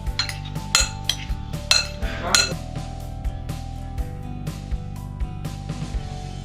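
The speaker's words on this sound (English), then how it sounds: "some coriander and some lemon juice, and we'll mix the mixture" Metal utensil clinking and scraping against a bowl while stirring a tortilla filling of green chilies, coriander and lemon juice: a quick flurry of sharp clinks that eases into lighter, regular taps and scrapes, close and clear.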